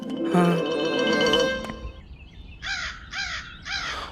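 Crows caw outdoors, three harsh calls in a row near the end. A ringing, musical tone comes before them.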